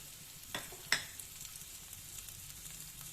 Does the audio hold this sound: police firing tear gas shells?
no